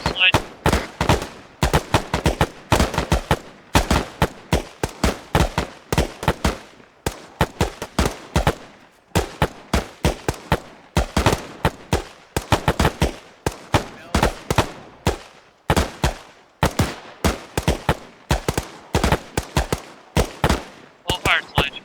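Gunfire crackles through a training shoot, rapid bursts and single shots loud and close in dense, irregular volleys that continue without a break, with occasional shouted voices between them.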